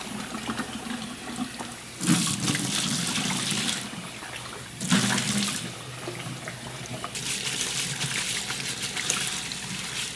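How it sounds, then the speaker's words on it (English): Water runs steadily from a tap into a sink, splashing louder in a few bursts as noodles are rinsed beneath it in cold water. "So I'm going to rinse this in cold water."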